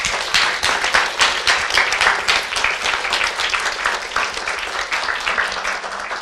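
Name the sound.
audience applause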